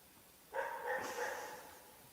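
A dog outdoors gives a single drawn-out bark lasting about a second, moderately loud against a quiet background.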